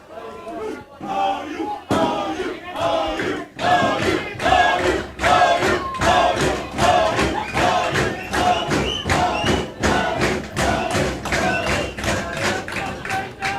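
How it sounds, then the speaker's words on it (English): Student fans cheer and shout at a women's college soccer game between Ottawa University and Bethany, loud and building into a rhythmic frenzy of claps and stomps, with a commentator's voice underneath. "Crowd starting to get in a little bit of a frenzy here"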